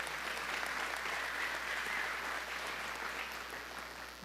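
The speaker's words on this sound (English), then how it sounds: "Give each other a round of applause." Steady crowd applause at a mayoral town hall meeting, a continuous wash of many hands clapping at moderate distance, sustained without breaks throughout.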